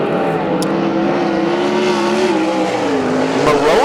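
Sprint cars race on the dirt oval at Central Arizona Speedway during a heat race, engines roaring loud and continuous with rising and falling pitch as the cars power out of the turns.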